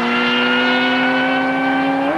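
1992 Suzuki GSX-R1100 motorcycle on a quarter-mile acceleration run, its engine a loud, steady high-pitched howl that holds pitch and then rises slightly near the end.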